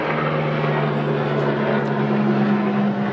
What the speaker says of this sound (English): There's a cargo plane flying over.